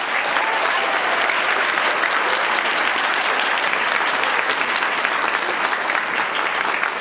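An audience at an instrumental concert applauds the percussionists, producing sustained, loud, evenly dense clapping that carries on without a break and with a faint murmur of the crowd underneath.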